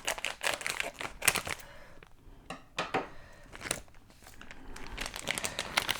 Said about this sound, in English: So I'll just have to cut off the top and see what's in the pack.